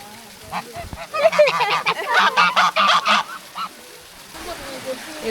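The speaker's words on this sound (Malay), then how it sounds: "Ni angsa kan?" Geese honking at a strawberry farm in Taif, Saudi Arabia, a close, loud run of repeated nasal calls lasting a few seconds, with faint voices in the background.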